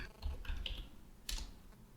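Close, quick keystrokes clatter on a computer keyboard, a short burst of taps followed by a pause and a final cluster of key presses.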